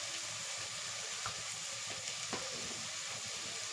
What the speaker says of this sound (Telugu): ఆనియన్స్ అవి మనకి కొంచెం బాగా ఫ్రై అయితే బాగుంటుంది. ఆనియన్ వేగాలి.